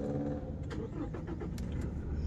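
A motorbike engine turns over and catches, giving a rough, low mechanical rumble with a few sharper bursts, heard close and fairly steady over a couple of seconds.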